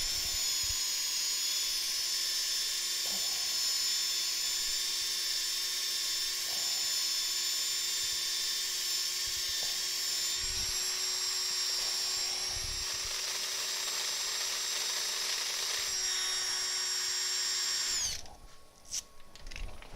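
Sandpaper at 240 grit pressed against a wooden turned piece spinning on a lathe, a steady high whine with a continuous hiss that runs nearly unbroken for most of the span before cutting off near the end.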